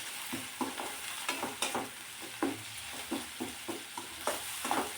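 Radish thecha stir-fried in oil in a pan, a soft continuous sizzle broken by regular scraping strokes of a spatula, close and fairly quiet with no talk.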